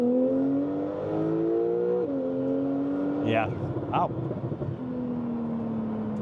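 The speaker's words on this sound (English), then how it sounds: "Let me get around this bend and just try a launch with the car." A 700-horsepower Porsche 991.2 Carrera launches hard, its engine note climbing steadily and dropping at two quick gear shifts, heard close from inside the cabin with a couple of brief excited exclamations from the driver.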